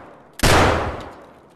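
A single loud gunshot cracks close in Escape from Tarkov, a sharp broadband blast with a short lead-in click that rings out and decays over about a second.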